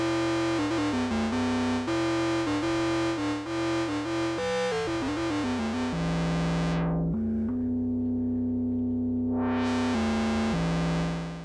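Oscillators on a Behringer 2600 synthesizer drone with reverb added, producing sustained buzzy tones that wobble and shift in pitch, then settle into a steady held note, loud and without speech.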